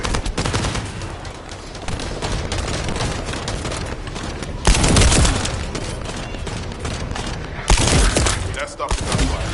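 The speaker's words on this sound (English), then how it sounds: "That stopped the gunfire." Sustained rapid gunfire and machine-gun bursts from the sci-fi shooter video game The First Descendant, loud and continuous, with heavier booming volleys punctuating the barrage.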